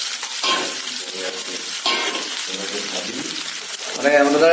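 Onions frying in hot oil in a pan, a steady close sizzle with stirring scrapes, under someone speaking.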